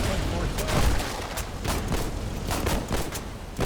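Dense, rapid bursts of gunfire and artillery rattle on without pause in the war video game Foxhole, loud and crowded with overlapping shots and booms.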